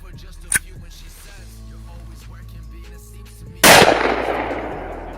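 An AR-15 rifle fired outdoors: one sharp crack early on, then a second, louder report a few seconds later that rings out and decays with a long, bright tail over a low background hum.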